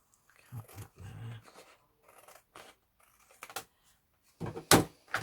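Scissors snipping away the excess around a paper noughts and crosses board, a few close crisp cuts in short bursts with quiet rustling between and a sharp louder snip near the end.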